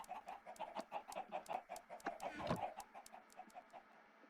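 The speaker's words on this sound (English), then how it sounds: "I keep feeding the chickens" Chickens in a modded block-building video game cluck in a steady, repeated rhythm of short calls, with one louder, busier burst midway and no talking.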